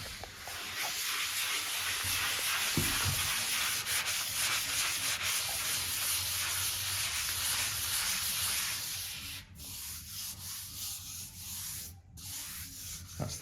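Fine-grit sandpaper rubs across a filled, patched wall in a steady hissing scrape, close and moderately loud, then breaks into shorter strokes with brief pauses near the end.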